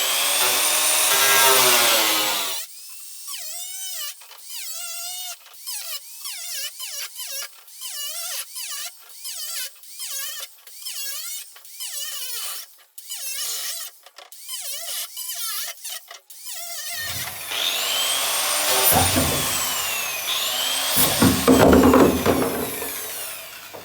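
An electric power tool running on 110 volts cuts into a low-cost pot for fruit trees: a loud, whining motor burst, then a long stretch of rapid, stuttering cutting chatter, then the motor whining again.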